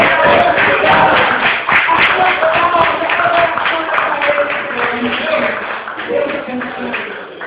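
A church congregation at a worship service applauds together, a dense, sustained wash of clapping that stays loud throughout, with voices mixed in.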